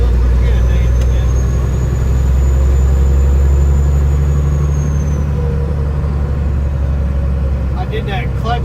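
A Freightliner truck engine drags low and loud during a clutch pull, a heavy steady rumble that dominates close up for the whole stretch, with a faint high whine fading partway through.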